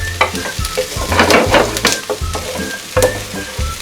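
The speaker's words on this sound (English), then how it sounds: "Saute for about 2 minutes." Food sautéing in a pan for a sweet and sour fish fillet dish, with steady close sizzling and frying crackle plus intermittent stirring scrapes, no talking.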